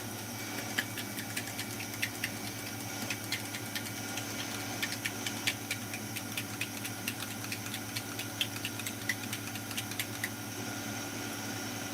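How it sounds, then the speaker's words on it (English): A spray paint can being shaken, its little ball making a steady, rapid metallic clicking rattle for several seconds over a low background hum, with no voices. "I'm going to shake this up really well until you hear the little ball."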